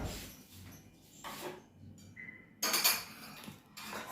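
A lid goes onto a cooking pot on a gas stove after the flame is turned off. Soft metallic clinks and scrapes come first, then a sharper clatter as the lid settles, close and fairly quiet with no talking.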